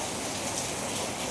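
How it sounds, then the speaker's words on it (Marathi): Continuous rain falling outdoors near a temple, a steady, even hiss of drops with no pauses, moderately loud and without any voices. "कंटिन्यू पाऊस पडतोय"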